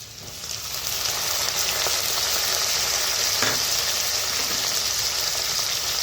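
Chopped onions hitting a hot pan: a loud, steady sizzle builds within the first second and holds as a dense, even frying hiss throughout, with no talking.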